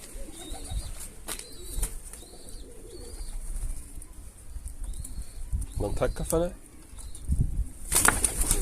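A pigeon coos and beats its wings near a coop, with short bursts of flapping and soft coos scattered through the clip, while people talk and call out close by.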